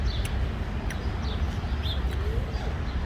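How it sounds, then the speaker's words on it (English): Small birds chirp faintly in short, scattered calls over a steady low outdoor rumble. "Little dicky birds are all waiting for my crumbs."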